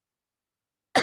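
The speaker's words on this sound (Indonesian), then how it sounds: "batuknya gara-gara ada yang masak cabai" A single short cough, close and fairly loud, bursting out after silence, caused by fumes from chili being cooked nearby.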